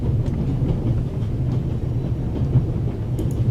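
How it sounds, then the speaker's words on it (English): A runaway train in the video game The Raven rolls on with a heavy, continuous low rumble and faint rhythmic rattling of the cars, loud and steady throughout with a few light metallic ticks, and no talk. "How can I stop the train?"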